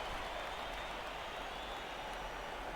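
A basketball crowd on its feet at a finals game, a dense, steady wash of cheering and clapping heard at some distance.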